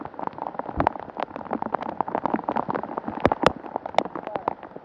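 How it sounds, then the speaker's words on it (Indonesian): Heavy rain pelts steadily and densely on a riverboat trip along the Perak River, a loud continuous patter with sharp drops. Faint voices sit under the downpour. "Hujan lebat."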